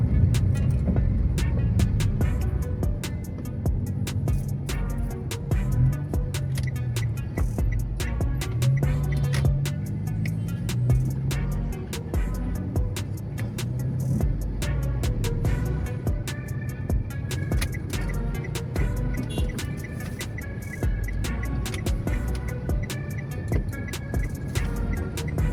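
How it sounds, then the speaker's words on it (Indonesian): Heavy traffic at an unsignalled intersection in Bandar Lampung, with cars and motorbikes rumbling past continuously, engines droning and a constant wash of passing vehicles. "Kendaraan sangat padat."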